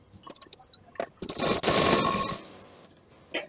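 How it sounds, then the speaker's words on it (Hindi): A sewing machine stitches along a folded blouse fabric edge. A few light mechanical clicks lead into a close, loud, steady whirring run of about a second that fades out, followed by another faint click. "इसको यहाँ ऊपर ऐसे तिरछा करके मोड़ देंगे और फिर हम यहाँ पर सिलाई लगाएंगे।"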